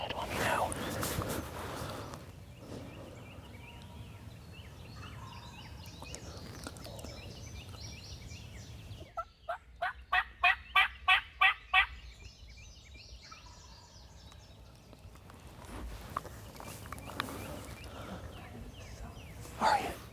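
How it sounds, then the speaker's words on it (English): Wild turkey gobbler answering a hunter's call at sunrise, a loud close burst of rapid rattling gobbles lasting about three seconds, with low whispered talk before and after. "The gobbler is responding well to the call"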